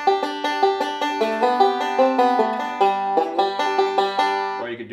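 A bluegrass banjo picks a melodic intermediate lick, a quick steady stream of bright plucked notes with crisp attacks that rings out alone, close and clear, for a few seconds.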